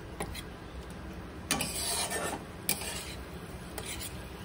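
A utensil stirs and scrapes sugar and spices around a pan over a gas flame. Gritty rubbing strokes come at irregular intervals, with a few louder scrapes against the pan and a faint sizzle underneath.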